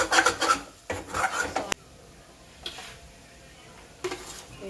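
Dal roasting in a pan and sticking to it, stirred with a utensil that makes close, raspy scraping bursts, then a quiet pause before more scraping returns near the end.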